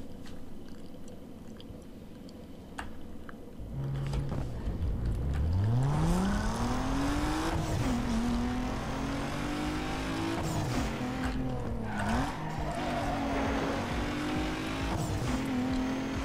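An Audi TT race car accelerates hard in Need for Speed Underground 2, with an ECU upgrade installed. The engine note climbs steadily with gear-shift dips, loud and close, and a voice talks in the background.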